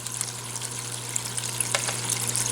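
Water flows steadily over Jimbo's gold recovery table, a soft continuous trickle and splash over a low constant pump hum, with a few brief brighter drips and no speech.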